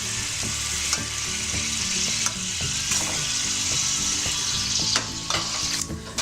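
Shrimp fry in a pan with a splash of wine, giving a loud, steady hiss and crackle close by, with scattered clicks of a utensil turning them.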